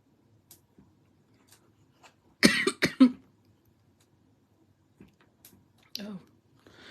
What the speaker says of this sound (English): Give me a second because I'm just coughing.